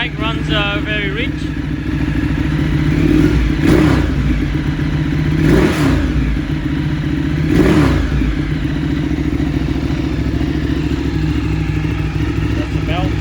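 A 2013 Ducati 848 Streetfighter motorcycle, running very rich, idles loud and close with three sharp throttle revs rising and falling over a steady engine drone.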